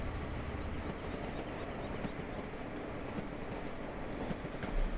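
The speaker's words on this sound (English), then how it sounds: "I hear the train behind us." A diesel train rumbles past at some distance, a steady broad roar with faint rhythmic clatter throughout, heard without talk.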